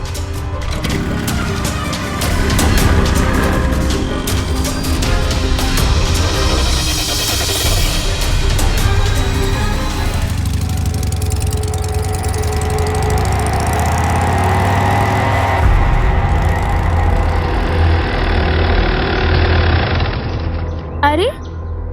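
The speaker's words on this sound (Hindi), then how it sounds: "बाइक स्टार्ट करो" A motorbike engine starts and keeps running with a steady, loud mid-range drone and some revving, while people talk over it.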